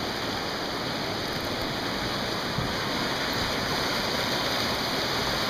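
The Colorado River runs high and fast with snowmelt, a steady, loud, close rushing roar of water that never lets up; no one speaks.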